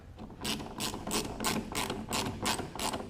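A ratchet clicks steadily through about eight quick strokes while a part is tightened during an LS engine swap into a Porsche 944, close and fairly quiet with no talking.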